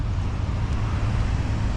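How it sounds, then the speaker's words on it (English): A dense wash of road traffic on a Delhi street, with a steady close rumble of passing cars and engines and no voices. "So I'm getting a little traffic here"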